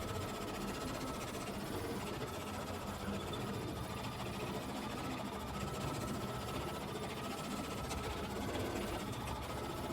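An embroidery machine stitches a ruler work design with a steady, rapid mechanical chatter and hum, even and unbroken throughout, faint and with no talking.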